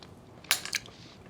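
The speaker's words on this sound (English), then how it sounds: "I will now taste it avec ma petite cuillère" A short, close crunchy bite and chew as food is tasted from a small spoon, one quick burst of crisp clicks lasting a fraction of a second against a quiet room.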